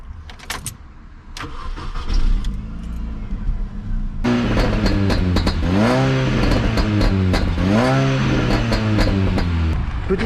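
A Mini Cooper S with a 170 hp engine cranks and fires up partway through, then settles into a loud, close idle broken by a few sharp revs rising and falling.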